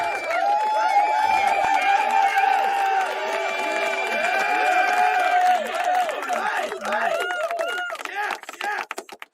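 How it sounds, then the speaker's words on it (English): A virtual arena crowd in the EA NHL hockey game roars after Edmonton scores for a 1-0 lead in the third period against Calgary, a sustained dense cheer that carries on before tapering into scattered bursts. "The Edmonton faithful in the crowd tonight cheer on as Edmonton will take a 1-0 lead"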